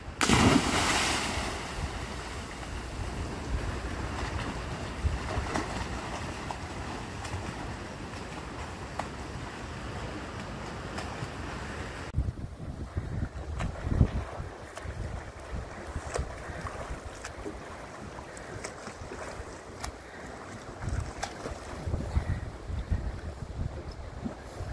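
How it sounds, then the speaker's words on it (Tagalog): Strong waves during Typhoon Carina wash and churn around a boat amid steady wind, a rough continuous roar with occasional louder surges, no voices. "medyo malakas yung alon"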